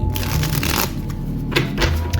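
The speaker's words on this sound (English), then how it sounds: "We're going to shuffle this." A deck of tarot cards is shuffled by hand up close, producing soft riffling and papery flutters in several quick bursts with brief pauses between.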